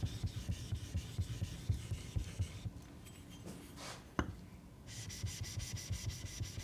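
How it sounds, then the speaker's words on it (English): A woodworking hand-tool blade is rubbed back and forth on a sharpening stone, making a steady, rhythmic gritty scraping close by that pauses briefly midway and then resumes. "Sharpening is the foundation to any hand tool woodworking, so I take a lot of care with this part of the process."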